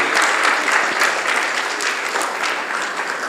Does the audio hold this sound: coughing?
no